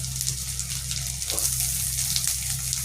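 Roughly chopped tomato hits a frying pan already holding garlic, ginger and green chili paste, giving a steady close hiss of sizzling with a faint stir partway through.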